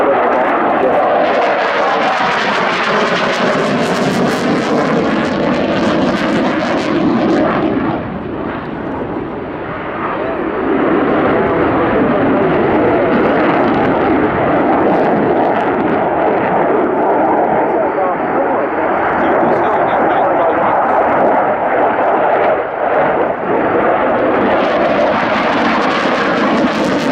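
Loud, continuous roar of MiG-29 Fulcrum jet engines in dry, unreheated power at the Royal International Air Tattoo display, flown by a Polish tactical squadron. The roar briefly dips mid-way, and commentary runs over it.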